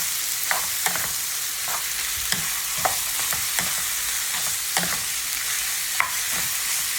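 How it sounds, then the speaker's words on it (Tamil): Beef sizzles and fries in a hot pan as it is stirred, with a steady hiss and sharp intermittent scrapes and clinks of a spoon against the metal, close up and with no talking. "இது பீஃப் ஆட் பண்ணுங்க. நல்லா மிக்ஸ் பண்ணுங்க."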